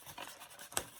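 A deck of tarot cards is shuffled up close: soft papery rustling with one sharp riffling snap near the end, and no talking.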